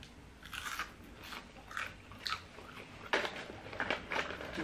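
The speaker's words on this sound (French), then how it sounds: "Quand elles sont pas trop dures, mais qu'elles sont croustillantes quand même." Crunchy Belgian fries are bitten and chewed up close, with irregular crisp crunches repeating several times against a quiet background.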